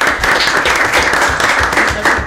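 Student audience at an association presentation event clap for a newly introduced member, a brief, lively burst of close hand claps.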